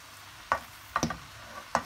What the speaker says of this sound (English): I use a wooden spoon. I just don't like the metal, so this is easier for me stirring it.